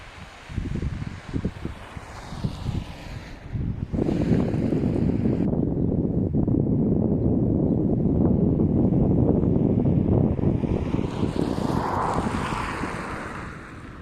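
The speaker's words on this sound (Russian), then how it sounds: "Очень холодный ветер сегодня." Cold, strong wind buffets the microphone outdoors in Pechora, Komi Republic, Russia, in a continuous, rumbling roar, gusting louder after a few seconds and holding steady.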